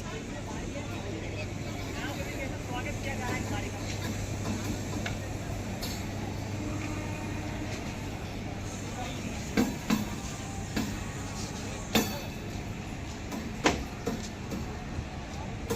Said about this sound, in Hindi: हावड़ा जंक्शन पे अराइव कर रही है ट्रेन अपनी हावड़ा